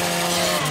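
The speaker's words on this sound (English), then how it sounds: "I'll try to do a chainsaw." A chainsaw attack in the Gears 5 video game, heard as a short, loud, steady mechanical buzzing whir that fills the whole moment.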